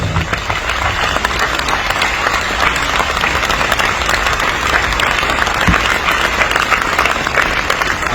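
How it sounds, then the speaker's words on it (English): A funeral crowd gives a standing ovation for a late chairman, with dense, loud, continuous applause and clapping from many people, filling the space evenly without pause. "I invite us all to give a standing ovation for the late chairman, John Fundy."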